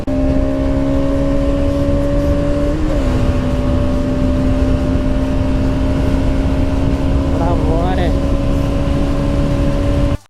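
A Bajaj Pulsar NS200 motorcycle engine drones steadily and loudly up close, its tone holding mostly level with slight pitch shifts before cutting off abruptly at the end.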